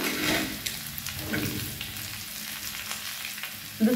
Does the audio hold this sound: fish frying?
yes